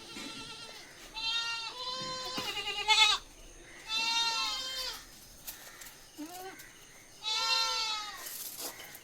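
Young crossbreed goat kids bleating in a farm pen, several loud, wavering cries in bursts with short pauses between them, close by.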